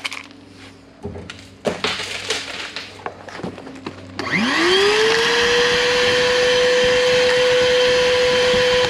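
A vacuum cleaner hooked up with its hose reversed between intake and exhaust kicks on after several knocks and handling clatters, then runs as a loud steady whine with a rising motor tone.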